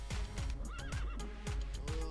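A horse whinnies in a rising and falling call over a steady soundscape in the video game Party Hard, with repeated thudding clip-clop steps underneath.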